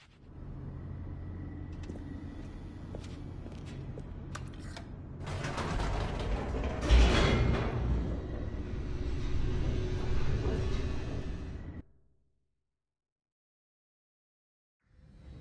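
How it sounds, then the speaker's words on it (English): An elevator plunges downward with grinding, creaking mechanical rumble and rattling gear noise that builds to a loud crash around the middle, then cuts off into silence. "The elevator raced downward, plummeting towards an unknown fate"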